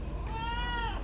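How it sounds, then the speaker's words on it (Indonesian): A cat meows once in a single drawn-out, wavering call over steady low background hum. "Ini kucing nakal."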